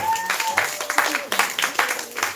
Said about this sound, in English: Give a clap again